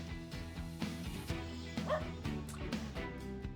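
A dog in the Choices game Crimes of Passion gives a few short yips and barks that slide into soft whimpers, close and clear over light background music.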